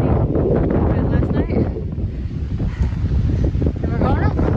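Wind gusts on the Appalachian Trail between Roan Shelter and US 19E buffet the microphone with a loud, steady low roar that lasts throughout, while a person talks over it.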